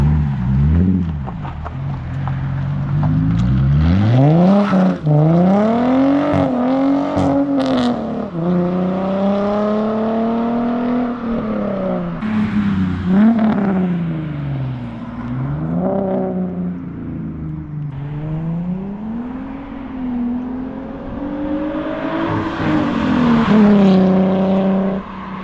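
A Ford Mustang engine runs close by, revving up and down repeatedly with rising and falling pitch sweeps over a continuous loud drone, with no talk over it.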